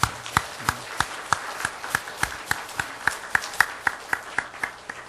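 A small congregation at a Korean church's early-morning autumn revival service claps in thanks, a steady run of distinct, evenly spaced claps that sounds like a modest group in a hall.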